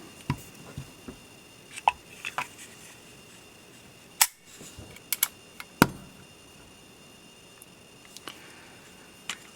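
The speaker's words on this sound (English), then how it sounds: "Let's test the double action and single action trigger pull now that we've finished here." A Smith & Wesson third-generation pistol being trigger-tested produces a series of sharp, close mechanical clicks and snaps at irregular intervals against quiet background noise.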